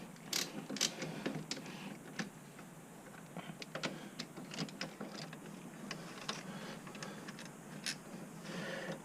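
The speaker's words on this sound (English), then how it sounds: "I'm going to take this caliper off." Faint ratcheting clicks and small metallic ticks come from tools working on the brake caliper of a third-generation Camaro, sounding irregular and close but low in level.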